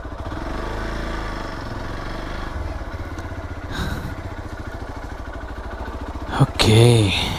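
A motorcycle engine runs on a village road in Purulia, a steady mid-pitched drone that carries through the whole stretch and swells into a brief louder burst near the end.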